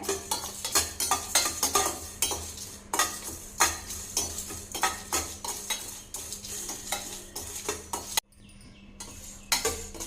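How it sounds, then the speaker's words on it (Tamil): Whole cinnamon and cardamom dry roasting in a pan, heard as a steady close sizzle with frequent scraping stirs and light clinks of a utensil against the pan, continuous and fairly loud, with a brief quiet dip near the end. "இப்போ ஆன் பண்ணிட்டோங்க வறுத்துக்கலாங்க"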